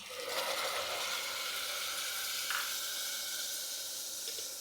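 Ground tomato goes into sautéed onions for a vegetable green biryani, producing a steady, fairly soft sizzling hiss that holds throughout with a slight swell midway.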